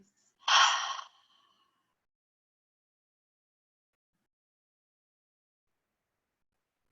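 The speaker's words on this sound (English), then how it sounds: "Take a deep inhale and release." A single deep breath drawn in and released during a yoga session, a short, soft airy exhale heard up close, followed by long silence.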